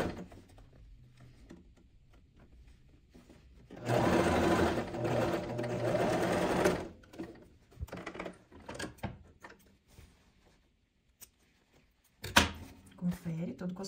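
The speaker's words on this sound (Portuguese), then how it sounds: "Costurar só o tecido de couro." A sewing machine stitching leather fabric runs in a single close, loud burst of about three seconds, surrounded by quieter handling clicks and someone speaking.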